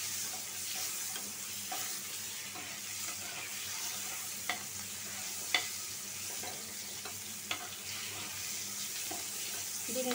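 Egg fries in hot oil with a continuous bright sizzle and stirring, punctuated by a few sharp pops and clicks, close and steady throughout.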